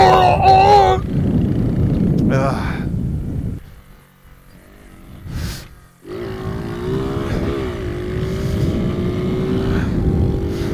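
A small dirt bike engine revs and drops while riding, rising and falling in pitch, fading nearly out midway with a brief burst before returning steady and close.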